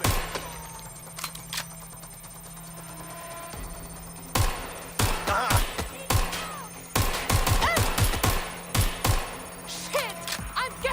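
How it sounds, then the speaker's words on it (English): Gunfire in Watch Dogs Legion: sharp individual shots and short volleys crack out irregularly after a quieter stretch, growing denser toward the end over a steady game hum. "Someone's shooting."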